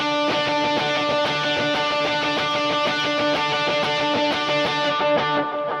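Electric guitar playing a single-string line with palm-muted strings and a harmonizer effect, a steady run of bright, closely spaced notes with distortion, loud and continuous throughout.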